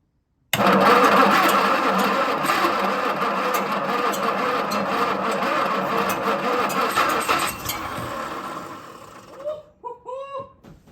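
A classic Jaguar engine cranks on a much bigger battery in a long, loud, steady churn, giving one small cough without catching, then stops and leaves a few faint clicks and squeaks behind.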